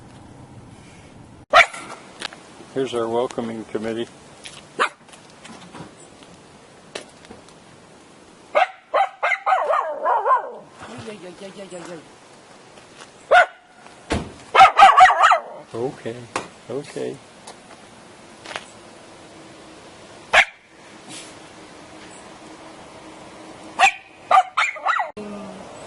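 A dog barking outside a hotel, sharp close barks and yips recurring across the scene, with people talking and calling out between and over the barks.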